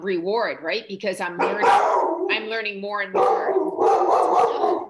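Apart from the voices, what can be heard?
dog barking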